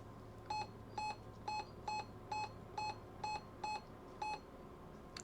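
Nine short electronic keypad beeps from an RT95 ham radio repeat at an even, quick pace, fairly faint over a low background hum.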